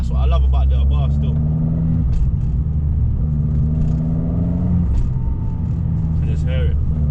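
A BMW exhaust rumbles steadily close by, the engine revving with a deep, pulsing low boom from the back boxes, loud and continuous, while people talk over it.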